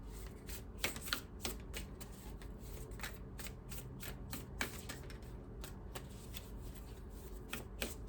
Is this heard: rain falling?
no